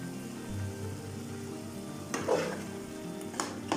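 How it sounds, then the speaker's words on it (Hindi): Lahori-style minced meat (keema) fries in a pan with a soft continuous sizzle, while a spoon scrapes and stirs it in a few distinct clinks and swishes, close and fairly quiet. "अब हम कीमे को भूनेंगे।"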